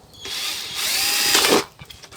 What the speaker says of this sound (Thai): มาเจาะช่วงนี้นะ